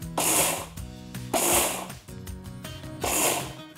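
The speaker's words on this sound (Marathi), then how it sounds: "एकसारखं फिरवून पीठ काढायचं नाही, फक्त पल्स करायचं" A mixer grinder pulses roasted grains into coarse semolina, giving three short bursts of loud whirring and rattling, close by, separated by brief pauses.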